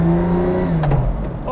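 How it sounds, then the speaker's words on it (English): A Lamborghini Diablo GTR engine revs loud and close on Sunset Boulevard in Hollywood, Los Angeles, its pitch sliding down over about a second and a half before a few sharper blips at the end. "driving the Diablo GTR"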